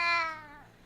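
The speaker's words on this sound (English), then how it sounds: "When it's individual meows, his meows are very cute." A cat gives one short, clear meow indoors. The single call is close and fades away quickly.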